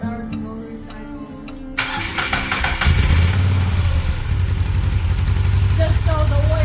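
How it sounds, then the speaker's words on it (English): A 2020 Moto Guzzi V7 Stone motorcycle engine cranks and fires up after an oil change, settling into a loud, steady idle close by. Quieter background sound comes first, and the engine starts just under two seconds in. "now we're gonna start the motorcycle"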